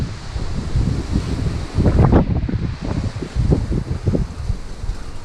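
Strong wind buffeting a microphone at an open cliff cave dwelling in Walnut Canyon, loud gusty rumbling that swells and eases in waves.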